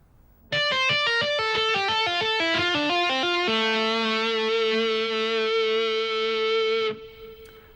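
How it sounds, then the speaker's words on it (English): Electric guitar through distortion and effects playing a pedal tone tapping lick: rapid tapped notes cascading over a repeated tapped pedal note, then a sustained held note that cuts off abruptly, loud and alone. "I'm going to do a pedal tone tapping lick"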